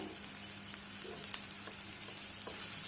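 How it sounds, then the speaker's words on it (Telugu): Ivy gourd frying with tamarind in a pan: a quiet, steady sizzling hiss with occasional faint pops and light stirring, with no voices. "వీటిని బాగా వేయించుకోవాలి."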